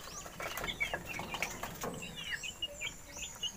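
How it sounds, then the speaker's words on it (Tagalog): Chickens clucking and chirping nearby, short scattered calls over a soft background with light rustling. "Ito po yung mga espisong manok natin mga brothers."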